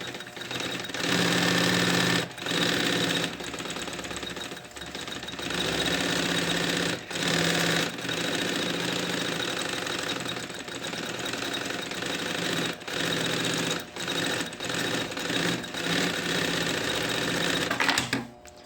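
A sewing machine runs close and loud, stitching lining right along the edge of a backpack panel in long continuous stretches broken by a few brief pauses.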